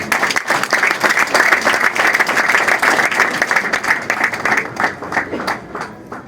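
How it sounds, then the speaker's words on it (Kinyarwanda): Sustained audience applause at an event in Rwanda honoring teachers on Teachers' Day, a dense steady clapping that carries for several seconds before thinning out and fading toward the end. "Tumufashe tumuha amashyi."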